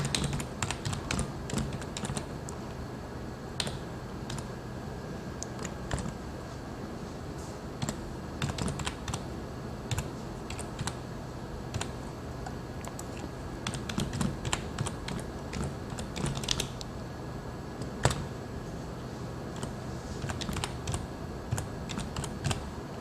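An email address being typed on a computer keyboard, with irregular bursts of close, crisp key clicks and short pauses over more than twenty seconds, alone and without talk.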